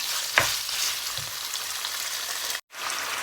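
Pork being stir-fried in oil in a pan, giving a dense, steady hiss of sizzling with a couple of soft stir knocks, close and loud, briefly cutting out near the end.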